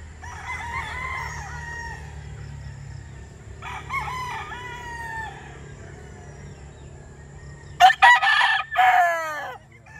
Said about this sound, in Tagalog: Napakagwapong mga manok mga boss.